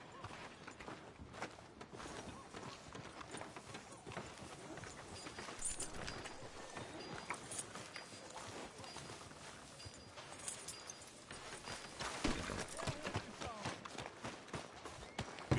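Horse hooves clip-clop steadily on a street in the video game Red Dead Redemption 2, fairly faint under game music and ambience.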